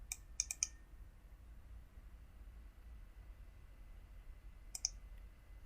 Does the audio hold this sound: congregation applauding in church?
no